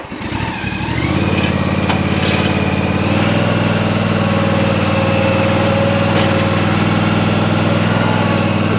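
A zero turn lawn mower engine starts up and settles into a loud, steady, close-range chugging run, holding an even throb as the mower spins in place.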